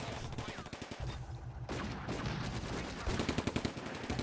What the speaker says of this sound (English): we were going to be pounding this thing with the anti-tank rifles